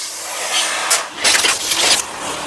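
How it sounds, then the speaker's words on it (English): A vacuum cleaner hose sucks at debris on a floor, giving a steady airy hiss with louder, rougher surges as it catches things, close and loud with no talking. "my name's Vacuum Cleaner Hose. I'm trying to suck things up and it's not working."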